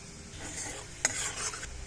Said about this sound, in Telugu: ఆయిల్ వేడి చేశానండి పోపు గింజలు వేస్తున్నాను వెల్లుల్లి మిర్చి కొద్దిగా ఇంగువ వేస్తున్నానండి